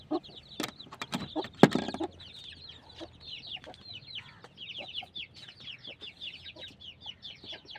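Undertaker-line hen and her newly hatched chicks: the hen clucks in a few loud, close bursts early on, then the chicks peep rapidly and steadily alone.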